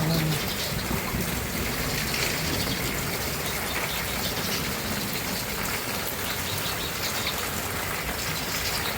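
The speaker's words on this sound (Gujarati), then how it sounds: "નદીની પેટ પાણી આવે છે." Swollen river water rushes past a village bank in a constant, dense broadband roar, loud and unbroken for the whole stretch, with faint voices beneath it.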